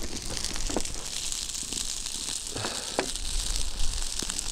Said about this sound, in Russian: и также продолжаем жарить наши драчёны